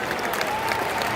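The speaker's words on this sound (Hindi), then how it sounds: "आप लोग अपने लिए अभी तक की जोरदार तालियां बजाइए" A crowd at an AWPL event applauding, dense continuous clapping at an even level for the whole short stretch.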